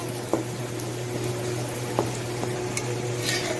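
Poha frying in hot oil for crispy chivda, a steady low bubbling sizzle with a few faint spoon taps and scrapes, no talking.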